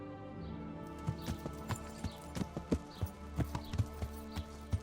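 Horse hooves clip-clop in the video game Kingdom Come: Deliverance, an irregular run of soft, distinct hoofbeats over a low ambient hum, with no talk.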